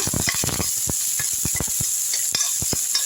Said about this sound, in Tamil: நல்லா வதக்கி விட்டுருங்க. 2 நிமிஷம் நல்லா வதங்கட்டும்.